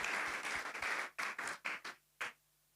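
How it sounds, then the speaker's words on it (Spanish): Several short bursts of applause from a church congregation, clapping in quick waves that stop and restart, ending in near silence. "Le damos un aplauso al Señor."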